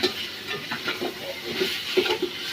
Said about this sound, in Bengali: চিকেন কষছে